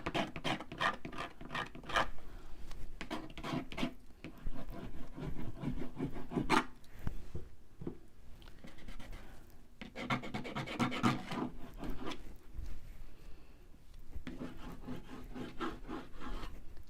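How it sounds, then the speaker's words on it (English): The back end of a tool scrapes mixed-media paint off a surface in bursts of dry, rasping strokes, rapid back-and-forth scratching that pauses briefly between passes, close and fairly quiet. "Scrape some of that off."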